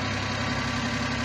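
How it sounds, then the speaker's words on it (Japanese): A warmed-up Suzuki Every DA62V engine idles close by with a steady, even low hum and a faint regular pulse, heard alone. "ちょっとアイドリングの音が落ちてきたから温まってはきたんだろうけれども"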